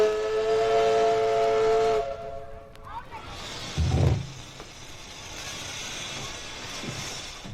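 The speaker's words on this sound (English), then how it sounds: "it sounds like the captain of the Swanee is signaling a landing" The Swanee steamboat's whistle gives one long, loud, steady blast for a landing, followed by fainter hiss and rumble from the boat.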